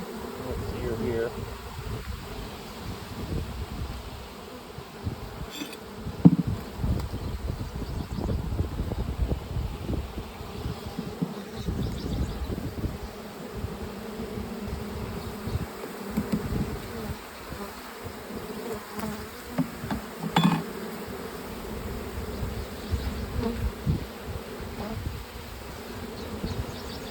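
A swarm of honey bees hums steadily and close as it is transferred into a resource hive, a continuous low buzzing with occasional handling bumps and quiet speech underneath.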